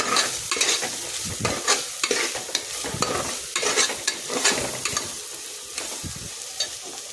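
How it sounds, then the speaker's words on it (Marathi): Masala khichdi mixture with garam masala and salt being stirred in a hot pan, a spoon scraping and clattering in repeated strokes over a steady sizzle, close and fairly loud with no talking. "या पद्धतीने आपण सर्व मिश्रण एकत्र एकजीव करून घेणार आहोत"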